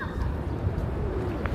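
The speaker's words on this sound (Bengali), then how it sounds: "কবুতর" Pigeons coo softly among the birds of Medina near the Prophet's Mosque, a brief low cooing call set against steady outdoor background rumble.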